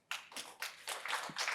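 A few people clap in short bursts at a school board meeting, several separate rounds of quiet clapping rather than full applause, close and faint in a room.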